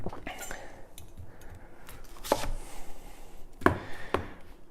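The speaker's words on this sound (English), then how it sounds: "take your onion with the root end still on, and you can go ahead and slice it nice and neat" A knife slices through a red onion on a cutting board in a home kitchen, giving a few sharp, close cuts spaced irregularly over a faint room background.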